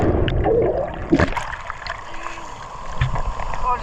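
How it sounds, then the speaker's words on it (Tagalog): Rough, churning water rushes and splashes in bursts, with a brief thud near the middle and surging waves toward the end. "Yun yung malakas na wave."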